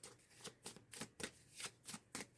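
Tarot affirmation cards are shuffled in quick, soft riffling bursts, about eight rhythmic flutters close and quiet with no talking.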